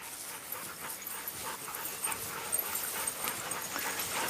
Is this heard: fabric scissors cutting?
no